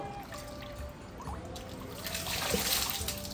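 Water trickling steadily as a two-year-old child bathes in Vrindavan, a continuous light splashing stream with a thin, faint background behind it.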